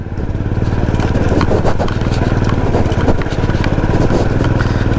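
A Royal Enfield Bullet motorcycle rides over a rocky mountain road, its engine thumping loudly and steadily throughout, with scraping and rattling from the stony surface mixed in.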